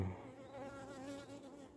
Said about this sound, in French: Je regarde bien l'état des abeilles.